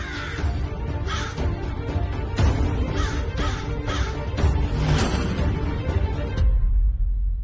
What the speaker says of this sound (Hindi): अब ये कौवा चलाने लग गया।